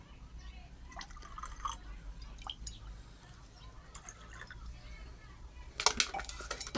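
Milky liquid from used nitric acid is poured out during silver recovery, heard as faint, uneven drips and small splashes with a few light clinks.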